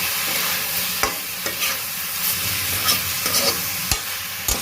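Stirring ground spices, including chili powder, in a pan for chicken chukka, with a steady sizzle of frying underneath, a spoon scraping and knocking against the metal at irregular moments.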